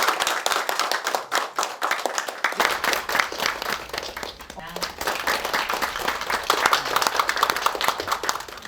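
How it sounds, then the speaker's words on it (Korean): A crowd at a business agreement signing ceremony applauds with sustained, dense clapping that swells and carries on, with voices audible over it. "큰 박수로 업무 협약 체결을 축하해 주시기 바랍니다"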